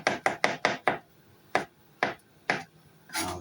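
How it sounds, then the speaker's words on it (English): Knife slicing halved mushrooms on a cutting board for a T-bone steak dinner; five quick crisp chops in a row, then four slower, evenly spaced cuts, close and clear with no talking. "just simple, cutting them in half and then slicing them up, straightforward like that"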